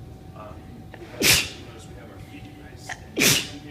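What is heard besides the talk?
person sneezing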